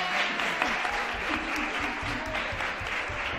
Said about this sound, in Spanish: Pues un aplauso muy, muy grande para Rafa.